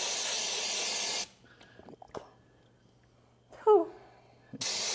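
Brake cleaner sprayed into a bucket of contaminated hydraulic oil, heard as two bursts of loud hissing spray at the start and end, separated by a quiet stretch with faint clinks and a short vocal sound.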